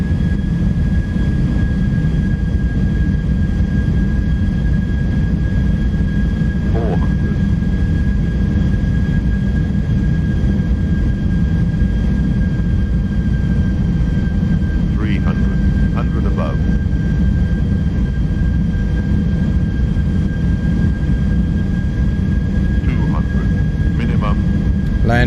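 Toliss A319 airliner in the X-Plane 12 simulator coming in to land, a steady loud broadband engine and airflow roar throughout with a faint constant tone and brief clicks.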